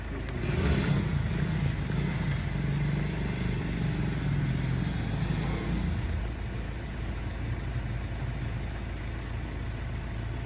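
A motorcycle engine runs steadily nearby, a continuous low rumbling drone that holds at an even level throughout.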